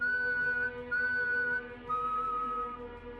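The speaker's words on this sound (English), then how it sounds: "3 long whistles, then silence." Three long, steady whistled tones in sequence, each held about a second with short gaps between, clear and moderately close against a quiet, faintly droning background at night.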